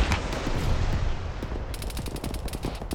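Rapid gunfire from a BTR armored vehicle in a military simulation game, a dense rumbling stream of shots with a sharper run of distinct bursts near the end, fairly loud and steady, with no talk.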